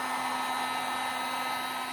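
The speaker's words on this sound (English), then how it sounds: "So, like I said, use a heat gun" A heat gun blows hot air onto car window tint, giving a steady, close whooshing roar with a constant whine and no pauses.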